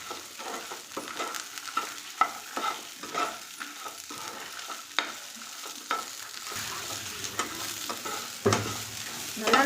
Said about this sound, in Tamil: மசாலாவை பதமாக வணக்கிக்கோங்க.